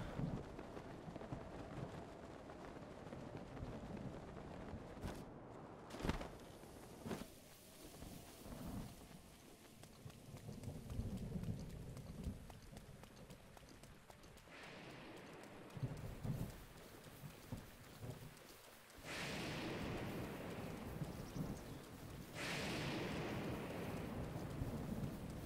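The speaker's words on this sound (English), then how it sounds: "Is it a thunderstorm now?" Thunderstorm with steady rain in the game Breath of the Wild, a continuous rushing patter with low rumbles of thunder and bursts of louder downpour, heard alone without talk.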